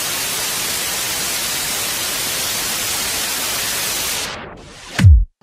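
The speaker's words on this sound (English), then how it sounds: "that was a stereotypical filtered white noise" Broadband filtered white noise hisses steadily at full strength for about four seconds, then fades and thins out, ending with a brief low thump near the end.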